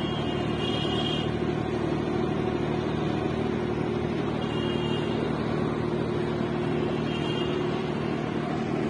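A launch boat engine on the Ganges river drones loud and steady the whole time, a continuous near mechanical rumble with water and wind noise and no voices.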